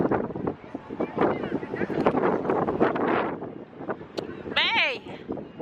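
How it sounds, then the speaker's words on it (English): Wind gusts buffet the microphone at the Eiffel Tower in Paris, a steady roaring rush under people talking close by, with a brief higher whine near the end. "Because this is windy."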